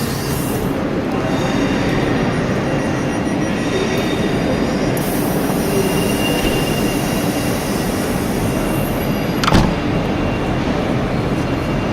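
A South Western Railway train leaving a station on the Alton to London Waterloo line, a constant loud rumble of wheels and motors from inside the carriage with a short clunk near the end.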